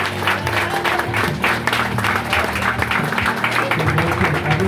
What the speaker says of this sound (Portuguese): eu quero que a gente dê o aplauso mais forte que você puder